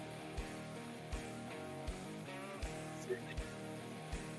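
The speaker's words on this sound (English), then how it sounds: "Now, I have an alert that pops up, and it sounds like this." A Trade Ideas stock scanner alert plays a short synthetic melody of repeated tonal notes with soft percussive pulses, steady and moderately quiet, with no talk over it.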